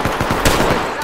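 Rapid automatic gunfire crackles close and loud in a video game shootout, a fast rhythmic burst of shots filling one second.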